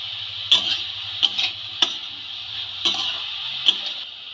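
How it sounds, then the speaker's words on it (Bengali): Vegetables with salt and turmeric are stirred in a wok: five sharp spatula scrapes and clacks spaced about a second apart over a steady, gentle sizzling hiss. "নুন আর হলুদ খুব ভালো করে মেশানো হয়ে গেছে।"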